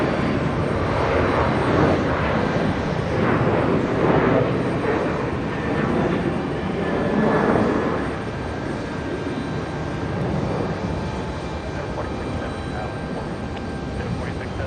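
A Delta Boeing 737-900 jet takes off from runway 4 Left at JFK, a broad sustained roar that stays loud and steady, then eases slightly as the aircraft recedes.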